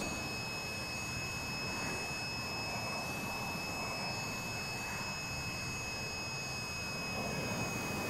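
Airbrake rumble of a BAE Hawk jet trainer in Microsoft Flight Simulator, a steady, fairly quiet broadband roar of engine and airflow with faint high whines running throughout.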